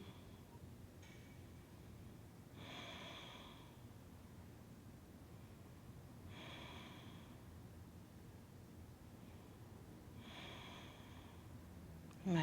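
Slow, deep breaths during a held yoga pose, about four soft inhale-exhale bursts spaced several seconds apart over a low steady background hum, close and quiet.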